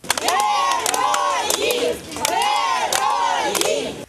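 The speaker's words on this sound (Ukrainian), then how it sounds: "Туди родичів не пускають, тому вони скандують на вулиці." Relatives of returning soldiers chant rhythmically in the street outside an administrative building, a loud crowd of voices rising and falling in repeated shouted phrases with cheering, close and continuous.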